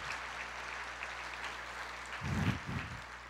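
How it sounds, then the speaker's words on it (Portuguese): A church congregation at a Pentecost service breaks into a short burst of applause, swelling for about a second after a quiet, murmuring room. "Você pode aplaudir o Senhor?"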